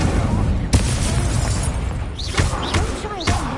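Incendio fire spell cast in Hogwarts Legacy, a loud booming burst with crackling flames followed by further thumps and whooshes of combat effects, a voice talking over the game sounds.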